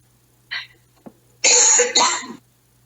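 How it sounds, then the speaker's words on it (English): A short throat-clearing sound, then a couple of harsh, close allergy coughs in quick succession, with quiet room tone around them. "I have to cough, and it's allergies"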